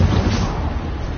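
Incendio fire spell cast in a Harry Potter video game, a short loud roaring whoosh of flame with dense crackling rumble.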